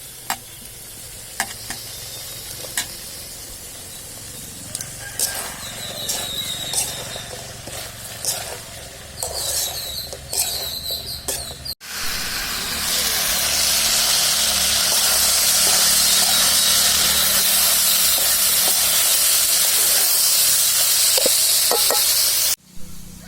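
Ivy gourd with onion and tomato sautés in oil, starting with scattered clinks and scrapes of stirring and then turning into a loud, continuous sizzle for the second half, with no speech.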